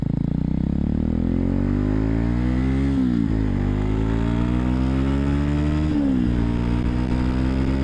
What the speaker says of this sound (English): The engine of course sounds quite well. It's a bit loud, not too loud, still pleasant